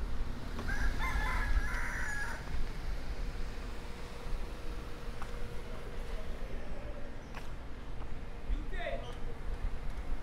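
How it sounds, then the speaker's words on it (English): Wild chickens on a street in Tobago, with a rooster crowing loudly early on and a fainter crow later, over steady outdoor background noise and some talking. "Lots of wild chickens here."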